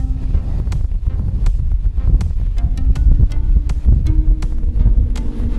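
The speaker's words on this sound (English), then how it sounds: "The wind whips down Union Glacier, keeping the windsock horizontal." Strong wind roars steadily across an open glacier near a blue ice runway in Antarctica, buffeting the microphone with low rumbling and occasional sharp flaps.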